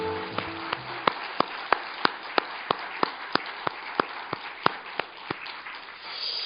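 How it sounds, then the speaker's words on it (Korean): Church congregation clapping during a Sunday service: a slow, regular series of sharp, distinct claps, roughly three per second in unison, over a quiet room background with no talk. "하나님께 영광의 박수를 올려드립니다."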